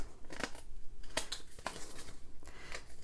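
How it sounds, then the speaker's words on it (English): Scissors trim paper for a craft project, giving several close, crisp snips and crunchy cuts in an uneven rhythm over a faint background, with no talking. "then you can open it back up and just trim those off"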